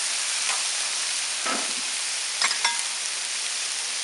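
Vegetables sizzle on a Blackstone griddle as soy sauce is poured in for a stir fry, a steady hiss of frying close by, with a few brief louder spits and scrapes.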